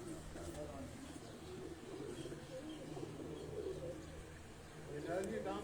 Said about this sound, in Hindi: कुछ देसी कबूतर दिखा रहे यार, कबूतरियाँ दिखा रहे।